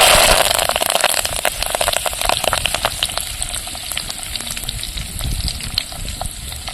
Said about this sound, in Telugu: కొద్దిగా పచ్చికరేపాకు అయితే వేసుకుందాం